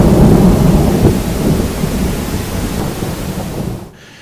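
A heavy thunderstorm with pouring rain roars through an open casement window, a loud, dense rumble of thunder and rain that fades abruptly near the end, with no voices.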